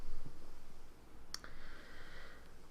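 One crisp computer mouse click on a skip button during a Facebook business page setup, close and isolated over quiet room noise.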